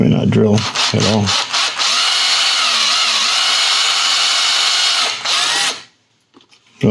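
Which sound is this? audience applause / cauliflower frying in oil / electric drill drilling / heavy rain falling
electric drill drilling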